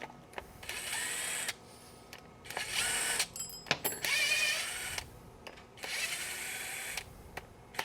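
A power drill whirs in several bursts of a few seconds each, loosening bolts on a Surron electric bike during a chain drive install, with short pauses and a clack between runs, close up.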